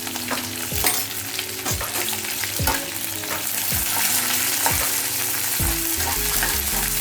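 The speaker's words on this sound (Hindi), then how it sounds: "ये भी डाल के भूनना है और साथ में ये ऑनियन ये भी डाल देते हैं।" Kashmiri red chilli and onion fry in a pan with little oil, giving a steady close sizzle broken by regular scraping stirs about once a second, with no talk.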